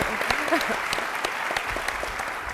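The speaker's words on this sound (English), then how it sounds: "let's give him a big round of applause" A big round of applause from an audience at an education event, a steady dense wash of clapping with a few sharp louder claps standing out and faint voices beneath.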